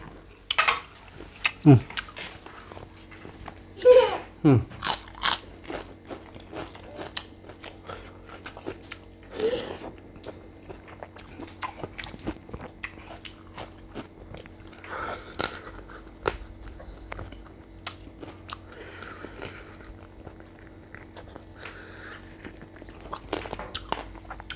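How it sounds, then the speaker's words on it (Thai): Crunchy Lao spicy chicken feet salad being chewed, with repeated bites and crunches spread across the stretch, close and fairly loud, alongside some clinks of dishes and cutlery and occasional background voices. "ตอนนั่งเล่นเคี้ยวกิน"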